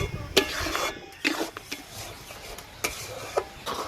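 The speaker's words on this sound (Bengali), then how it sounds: "তো এইভাবে নাড়াচাড়া করে আমের পালটা বেশ ঘন করে নিতে হবে।" A spoon scrapes and knocks against a pan as thick raw mango pulp is stirred, leaving scattered clinks and soft scraping between pauses.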